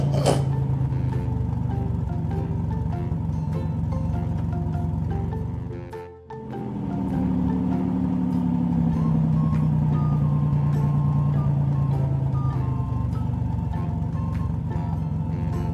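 A toy car sounds a loud electronic beeping tune with a motorised whir, running steadily, dropping out briefly partway and then resuming with a gliding tone, heard close with no talk.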